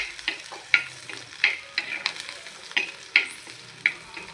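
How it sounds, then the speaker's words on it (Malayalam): Crushed garlic frying in a pan sizzles softly while a utensil scrapes and taps against the pan in quick, uneven strokes, each stir a sharp close clack. "കുറച്ച് വെളുത്തുള്ളി ഇങ്ങനെ ചതച്ചത് അങ്ങോട്ട് ഇട്ട് കൊടുക്കണം."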